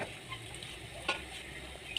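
Homemade bun bread frying in hot oil gives a soft, steady sizzle at low volume, with a couple of brief sharp crackles.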